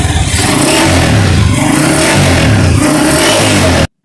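A modified Honda CG125 motorcycle with an altered head and cylinder and a swapped cam gear revs loudly and close by in repeated throttle blips, with a clattering mechanical edge, before cutting off abruptly at the end.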